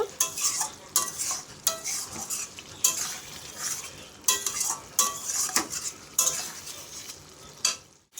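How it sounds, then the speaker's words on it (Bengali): Spice paste with turmeric is sautéed and stirred in a pan for a prawn dish: close, repeated scraping strokes of a utensil over a steady sizzle, with the stirring rhythm rising and falling throughout and no voices. "পরিমাণ মতন হলুদ দিয়ে দিচ্ছি দিয়ে আমি মশলাটা আরেকটু কষিয়ে নেব"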